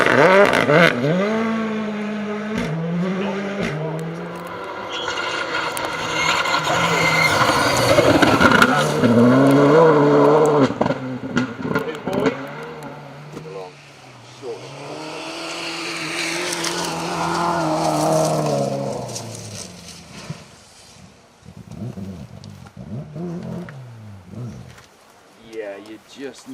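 Rally cars in Wales, including a Ford Escort RS2000, blasting along a stage at full tilt, engines rising and falling through gear changes as cars approach and pass, with a commentator talking over the passes.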